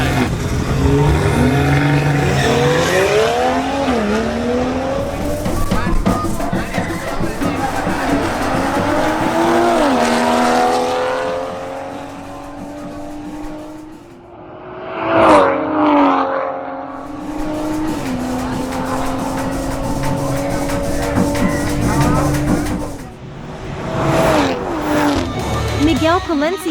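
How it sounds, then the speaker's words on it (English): A BMW M440i xDrive and a BMW M340i xDrive run a drag race. Loud engines rev and climb in pitch through repeated gear changes, with a brief tire squeal midway and another rev-up near the end. "a matchup between Miguel Palencia in his BMW M440i xDrive and Saray Torres in her BMW M340i xDrive"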